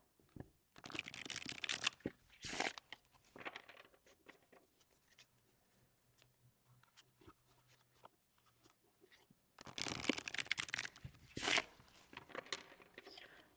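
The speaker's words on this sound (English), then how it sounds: "I'm going to actually pull them all out of their boxes and I'm going to kind of shuffle them" Slippery playing card decks are shuffled by hand in two loud bursts of rapid riffling and fluttering, with quieter handling and clicks in between.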